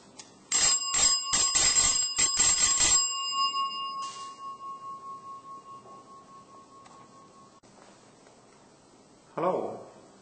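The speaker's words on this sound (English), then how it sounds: "What type of energy are you expecting to get out of the bell?" A battery-powered electric bell rings in several rapid bursts, loud and close, then a long ringing tone fades away, followed by a brief rustle near the end.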